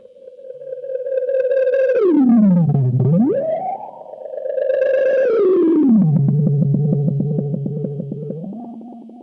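A HangmanFX Meteoric Echo Monster analog delay pedal self-oscillates, a loud, gliding tone that swoops down and back up in pitch with echoing repeats, swelling and fading in two long waves, no talk.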